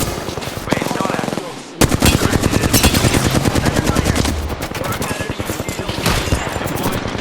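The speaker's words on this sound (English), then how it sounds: "Being shot at." Gunfire rattles through a match of the video game Apex Legends: loud, rapid automatic bursts with a short lull near the start, then dense, continuous shots stacking close together.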